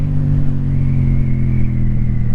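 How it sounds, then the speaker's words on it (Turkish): A motorcycle engine revving hard while the rear tyre slips and loses grip, a loud, close, sustained roar with a slowly rising pitch and no speech. "Bak devir yükseliyor ama gitmiyor."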